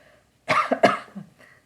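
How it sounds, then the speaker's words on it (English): A single person coughs a few times in quick succession, close and fairly loud, in a short dry burst followed by a faint breath, with no talking. "That's coughing."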